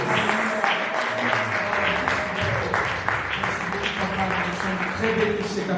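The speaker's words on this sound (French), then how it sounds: "Est-ce qu'on peut encore acclamer le Seigneur?" A church congregation applauds to acclaim the Lord with steady, dense clapping. Raised voices blend into the ovation throughout.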